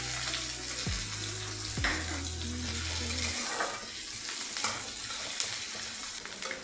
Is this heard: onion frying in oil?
yes